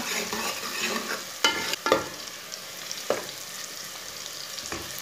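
Garlic and onion browning in a pan over medium heat for a mutton gosht, a steady close sizzle with several sharp scraping stirs of the spoon.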